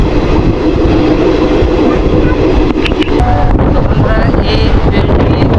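Katwa passenger train running in the morning, heard from onboard as a loud, continuous rumble and rattle of the carriage with wind buffeting the microphone and a few faint squeals and clanks.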